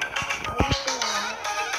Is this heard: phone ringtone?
yes